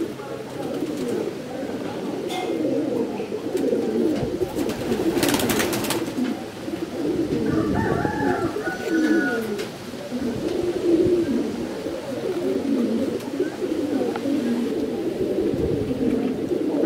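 Pigeons coo in a loft or outdoor pen, soft repeated throaty calls mixed with wing flaps and general bird chatter, while people talk over much of it.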